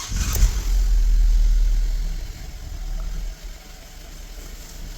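A 2011 Buick, with a whining power steering fault, cranks and fires up close by, revs loudly for a couple of seconds, then drops to a steady idle hum.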